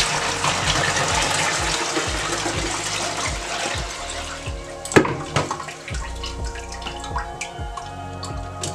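Water gushes and splashes steadily into brown sugar for Jamaican June plum and ginger juice, continuous pouring with drips and small knocks toward the end, loud and close.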